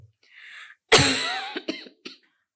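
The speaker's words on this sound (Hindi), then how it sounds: "खांस के देखिए, कोई कष्ट नहीं।" A woman gives one strong, close cough followed by a few short, softer coughs and throat-clearing sounds, preceded by a faint breath, in an otherwise quiet room.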